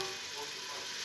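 Chinese-style pasta with mixed vegetables sizzles in a pan, a continuous close hiss of frying with no voices.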